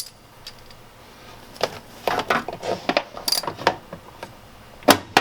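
A 10 mm ground nut on a Sprinter van chassis being loosened by hand tool, heard as scattered close metallic clicks and ratcheting taps, with brief clinks of loose metal.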